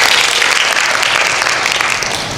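Steady audience applause fills a lecture hall at the end of an interprofessional education knowledge-sharing presentation, a dense, even clatter of many hands clapping close by for a couple of seconds, with no voices over it.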